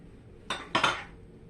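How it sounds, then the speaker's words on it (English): Two quick clinks of a utensil against a bowl while an egg is beaten into caramel chocolate chip cookie dough, close and brief amid quiet. "I'm going to beat after adding this egg"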